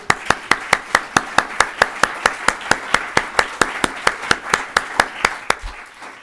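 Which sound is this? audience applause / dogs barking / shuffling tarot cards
audience applause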